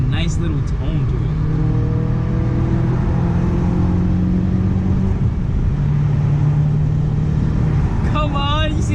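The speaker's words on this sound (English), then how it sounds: "this shit sounds fucking good. Like, seriously good. It has a nice little tone to it." Audi B6 A4 fitted with an ECS catback exhaust, accelerating at night with a steady loud exhaust drone that rises in pitch and drops at the gear shifts, under excited talking.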